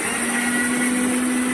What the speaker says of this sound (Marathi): थोडंसं आणखी एकदा बारीक वाटते